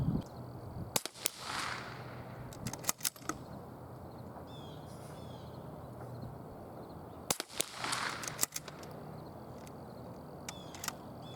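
Rifle shots ring out on an outdoor range while a Red Line Corsair scope is sighted in, a few sharp separate reports in two clusters with quiet gaps between them and no talking.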